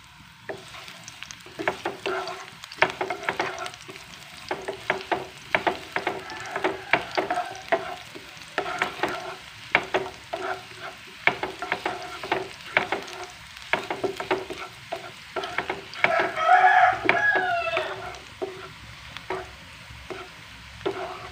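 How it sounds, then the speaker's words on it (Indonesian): Garlic stir-fried in a pan with oil left over from frying eggs, giving a steady crackling sizzle with repeated scraping and stirring strokes of a utensil throughout, close and moderately loud. "Kita tumis bawang putihnya dulu sampai harum."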